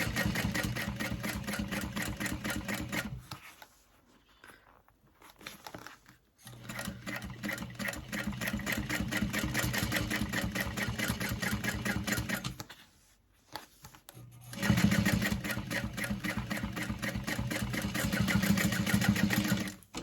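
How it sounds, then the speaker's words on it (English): A sewing machine topstitches around the outside edge of a Felicity tote bag in several bursts of rapid, even needle chatter separated by short quiet pauses. "Make sure my stitch length is set to a wider top stitching length and go around that outside edge."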